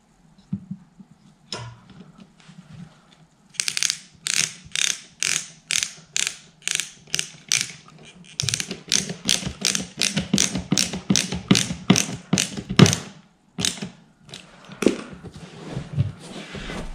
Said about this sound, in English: fit another screw.